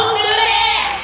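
Concert crowd at an outdoor community music event in Daejeon, Korea, roaring and cheering loudly in a dense, continuous wash of voices and applause that fades slightly at the end.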